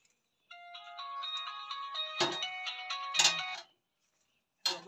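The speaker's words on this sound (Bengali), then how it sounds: "কে যেন ফোন দিচ্ছে" A mobile phone rings with an incoming call, its melodic electronic ringtone playing for about three seconds at moderate volume and then stopping, with a brief burst of another sound at the end.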